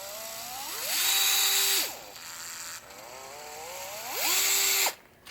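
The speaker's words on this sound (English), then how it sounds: "This is a DeWalt gyro screwdriver. I hold the button down, turn it." A DeWalt gyro electric screwdriver whirs in two bursts, its motor pitch rising and falling as it drives screws into a 1973 Williams pinball clock unit, close and alone.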